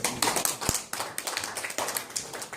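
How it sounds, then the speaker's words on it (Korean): Dense audience applause fills a hall at a first-anniversary commemorative ceremony, a steady wash of many hands clapping with a sharp low thump near the start and no talking. "박수로 만납니다."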